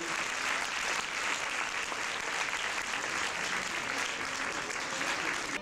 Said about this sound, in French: applaudissements pour Lucas Mangini